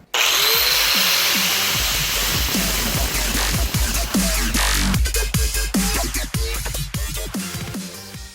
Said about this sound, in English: We're just gonna kind of grind a line in it so that whenever we go to bend it, it knows where to bend.